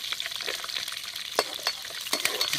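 Chana dal and peanuts frying in hot oil in a pan for capsicum rice, a steady close sizzle broken by a few sharp pops and stirring scrapes, with no voices.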